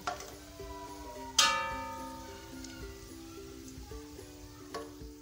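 Garlic ginger paste hitting a pan of browning onions for vegetable pulao, a sharp burst of sizzle that flares and then settles into a steady frying hiss, with a faint background hum and no talking.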